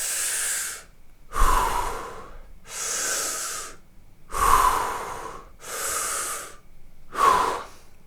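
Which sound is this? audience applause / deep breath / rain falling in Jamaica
deep breath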